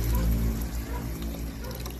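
Water poured into a cooking pot while preparing a Filipino vegetable dish with ginger, a steady close splashing and pouring wash that lasts throughout, loud and continuous with no talk.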